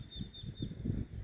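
Free birds in a clean, quiet outdoor spot, a few faint high chirps repeating in a short rhythm over low soft rustling and patter.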